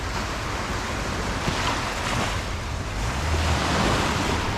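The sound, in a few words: ocean waves and wind at the beach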